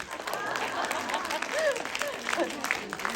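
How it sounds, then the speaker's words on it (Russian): A gathered crowd claps in a moderately loud, ragged patter while cheerful voices and shouts rise over it, with talk continuing through the applause. "Под ваши аплодисменты, да?"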